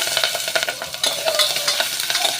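Small onions, garlic, curry leaves and green chilies sizzle loudly in hot oil for sambar while a spoon scrapes and stirs them in steady, quick strokes, close up.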